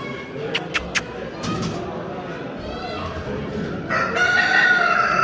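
Roosters crow at an ornamental chicken competition in Muğla where Brahma chickens are shown, one clear crow rising near the end over a busy background with several sharp clicks early on.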